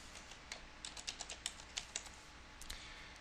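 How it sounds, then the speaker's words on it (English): Password typed on a computer keyboard, about a dozen quick, soft key clicks in an uneven run, close and quiet, with no talk. "And type my password."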